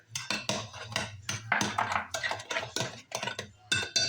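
A utensil beats an egg in a bowl for banana nut bread batter, giving quick clinking, scraping strokes in an uneven, steady rhythm, close up and fairly quiet.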